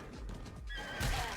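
A horse whinnies in a video game, a single loud neigh with a rough breathy tail, followed by fainter clopping hooves and ambient game noise.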